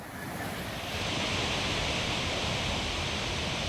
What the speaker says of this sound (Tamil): நீர்வீழ்ச்சியில் ஆர்ப்பரித்து கொட்டும் தண்ணீர்